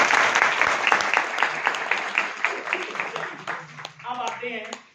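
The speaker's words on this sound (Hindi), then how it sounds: "एक बार ताली बजा के नींद लगा।" Lecture audience at Dr. C.V. Raman University in Kota, Bilaspur, breaks into dense, brisk applause that gradually thins out, after which a voice begins speaking.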